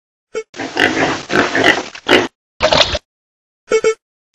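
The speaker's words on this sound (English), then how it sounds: "Pig." Pig grunting and oinking in a series of several short, close, loud snorty calls with brief pauses between them.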